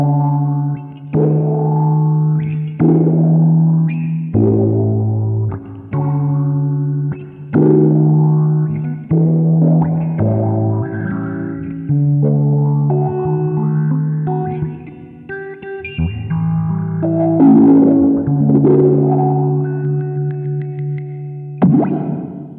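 Electric guitar notes and chords through a Fender Pour Over envelope filter pedal, low-pass filter sweeping down, drive off, on a Boss Katana clean channel with lots of reverb, played alone at a moderate, steady volume.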